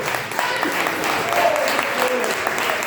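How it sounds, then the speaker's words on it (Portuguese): A church congregation claps steadily in worship, a dense, continuous wash of hands throughout, with a voice speaking over the clapping. "As palmas louvam o nome do Senhor."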